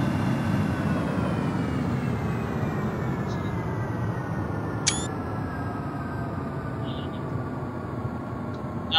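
A steady airliner engine hum and whine in the X-Plane 11 flight simulator holds throughout while the plane taxis, with a single sharp click partway through and no gaps.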